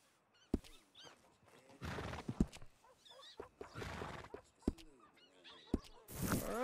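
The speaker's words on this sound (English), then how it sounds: "You got yourself a deal. And a fine new horse." A horse in the Western video game Red Dead Redemption gives a couple of quiet whinnies and snorts amid faint in-game ambience and soft hoof sounds, distant and low in level.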